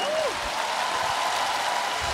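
Dense, steady applause from a concert audience in Žalgirio Arena fills the space evenly for its full length, with a brief tonal sweep at the very start.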